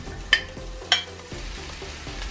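Onion sizzles in hot cooking oil in a pan, a steady close frying hiss broken by a couple of sharp clinks of a utensil against the pan.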